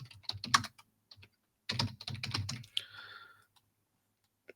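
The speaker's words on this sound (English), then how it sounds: "you can see that I'm terrible at typing on this keyboard" Bursts of typing on a computer keyboard, clustered key clicks in two quick runs separated by a pause, close and fairly quiet, with a brief faint hum near the end.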